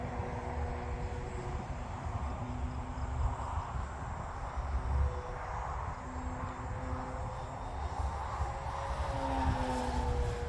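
A Seagull Models Super Decathlon 68-inch RC airplane drones steadily as it flies, its engine note rising and falling slightly over a constant rushing wind noise, with no voices.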